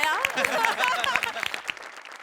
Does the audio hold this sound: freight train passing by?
no